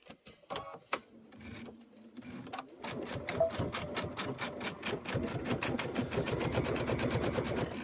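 A sewing machine stitches a Kimberbell Sweet Land of Liberty pillow, starting with a few hesitant clicks and short runs before settling into a fast, steady, rhythmic chatter of the needle close by.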